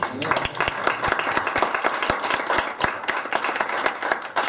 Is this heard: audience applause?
yes